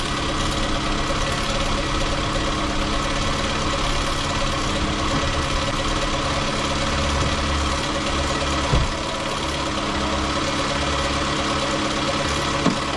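A car engine idling steadily under the hood, a loud close mechanical rumble with constant vibration and a faint knocking texture, unchanged for the whole stretch apart from a brief dip near the end, with no talking.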